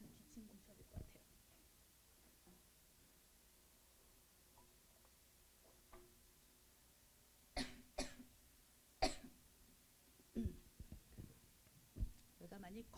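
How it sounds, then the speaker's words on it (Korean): A few sharp coughs clustered in the second half during a talk on diet for middle-aged diabetes patients, faint and close, amid quiet room tone and soft speech. "잠깐 기침 좀 쳐야 될 것 같아요."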